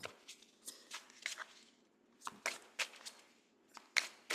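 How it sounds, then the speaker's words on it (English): A deck of playing cards is shuffled close by, giving a series of quick papery riffles and snaps in short irregular bursts, with quiet gaps between them. "I have to edit some of this shuffling out."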